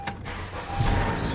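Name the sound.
2014 Honda Accord engine starting and running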